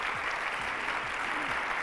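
Studio audience applauding on a Pakistani morning talk show set, a dense, steady wash of many hands clapping at even loudness throughout, with no voices over it.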